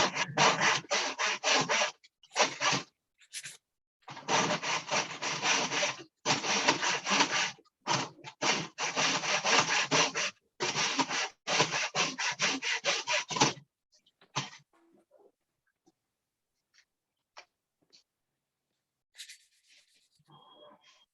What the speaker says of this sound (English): when you're sanding, always go with the grain of the wood